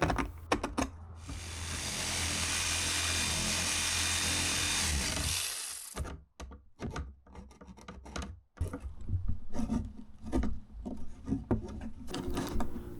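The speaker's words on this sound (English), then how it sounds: "I'm trying to just use a spare jigsaw blade, but that isn't working" Rough, steady rasping of a spare jigsaw blade worked by hand through a panel while fitting heating ducts in a camper, running continuously for several seconds, then breaking into irregular scraping strokes and knocks, close and fairly loud.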